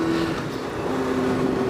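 Motorcycle engine held at a steady idle-to-rev drone, loud and close, its pitch dipping slightly and then climbing again over the short stretch with no talking.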